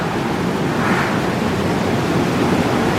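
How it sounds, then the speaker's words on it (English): Steady, dense rush of churning water in a spa hydrotherapy pool, close and continuous with no rhythm, like constant surf-like bubbling filling the space without any voices. "This is the hydrotherapy pool."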